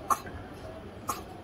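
A child gives two short, quiet coughs about a second apart, each a brief dry burst against a soft, low background.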